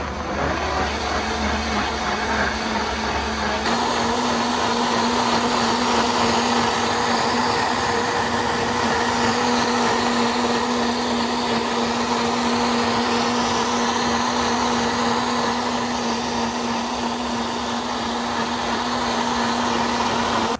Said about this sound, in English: Got this Vitamix. I got this Vitamix like a long time ago. And this thing is powerful, okay?